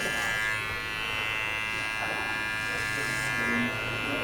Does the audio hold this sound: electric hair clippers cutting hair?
yes